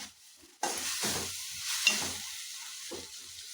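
Onions and tomatoes frying in a pan for egg masala, a steady close sizzle with a few stirring scrapes, alone with no voices.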